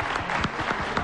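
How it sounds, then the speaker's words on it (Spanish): Studio audience applause on a television show, a brief burst of dense clapping at moderate volume with no voices over it. "Aplausos."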